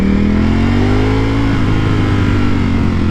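A Ducati Panigale V4 sports motorcycle engine runs loud and close, a steady droning tone that lifts slightly then settles into a rough, even rumble with no speech.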